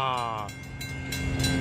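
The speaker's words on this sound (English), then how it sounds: "That train is on its way to San Jose Diridon." A passenger train rolls past on a Northern California line, bound for San Jose Diridon, giving a loud, sustained rumble with a fading horn-like tone at the start and rising rail noise.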